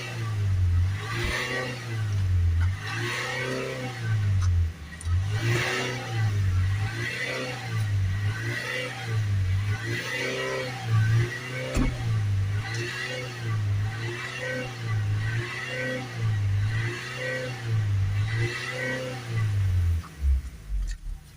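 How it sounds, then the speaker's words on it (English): A Peugeot Bipper 1.3 HDi diesel van with a soot-loaded particle filter is revved up and down over and over, rising and falling in regular, close, loud cycles about every second and a half. "Now we'll just give it a few more revs up and down to clear it out."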